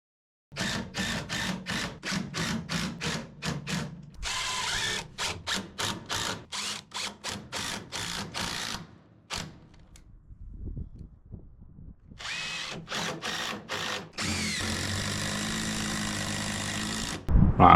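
A power drill driving screws during a DIY camper van build, several bursts of whirring high-revving motor separated by short pauses and quieter handling noises, close and loud with no talk.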